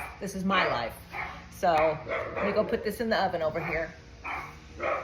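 Several dogs bark and yip excitedly in overlapping bursts nearby while a person talks over them.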